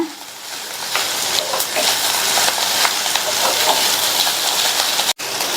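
Steady sizzling and crackling of ridge gourd and tamarind sautéing in a hot pan, broad and continuous, with faint scraping stirs and a brief break near the end.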